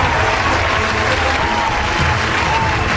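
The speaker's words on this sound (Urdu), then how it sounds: "تالیوں سے استقبال کیجیے." Audience applause at an Urdu mushaira welcoming the poet Rahat Indori, loud and dense continuous clapping from a large crowd, steady from start to finish.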